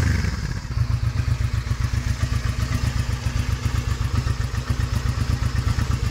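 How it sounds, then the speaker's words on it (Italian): A motorcycle engine with an idle fault idles close by with a lumpy, uneven chugging pulse, repeating rapidly and steadily without any voices. "ci siamo fermati un secondo perché la moto di Antonio sta avendo un leggero problema di minimo"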